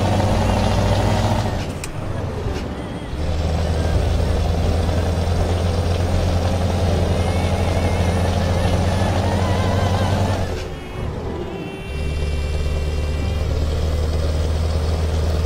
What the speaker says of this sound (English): Man, the truck is loud over that music.